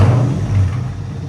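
Straight-piped 6.4L Hemi V8 in an all-wheel-drive Chrysler 300, a loud close deep rumbling rev that swells and then settles back over about a second.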